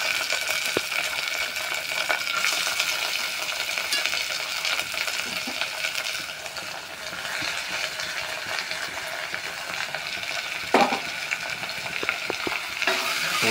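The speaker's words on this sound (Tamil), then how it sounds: "போட்டு நல்லா வதக்கிக்கணும்." Chopped onions and curry leaves sauté in hot oil for a home-style mutton kudal gravy, giving a steady, close crackling sizzle with occasional stirring scrapes throughout.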